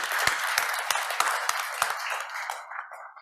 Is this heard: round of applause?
yes